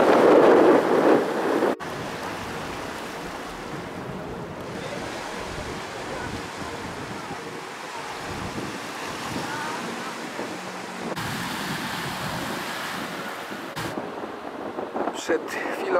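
Ocean surf breaks on a long beach near the Maspalomas lighthouse on Gran Canaria. It is a constant washing roar mixed with heavy wind buffeting the microphone, and the gusts shift in strength a few times.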